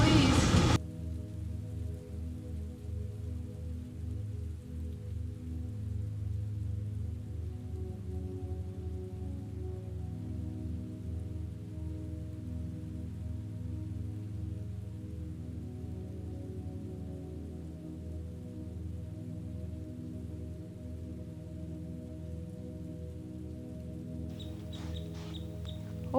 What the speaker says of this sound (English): Okay, stop raining now.